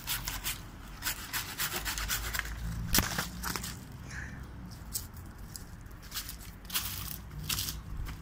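A mulberry tree branch is cut during pruning, producing close, rough rasping and crunching strokes with a sharp snap partway through and no talk.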